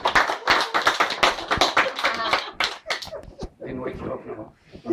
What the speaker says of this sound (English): There's a big round of applause from everybody.